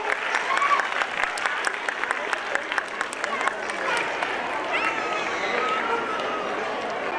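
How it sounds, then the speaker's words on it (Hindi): Audience applause at an annual school gathering at an Urdu school, dense steady clapping from a crowd lasting throughout, fairly loud and continuous with a slight swell and fade. "तालियां बजाइए"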